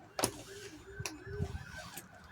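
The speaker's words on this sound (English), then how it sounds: "That's a funny sounding siren." A siren with an unusual tone wails faintly in the distance, its pitch sweeping up and down in repeated rises and falls under a low background murmur and a few close clicks.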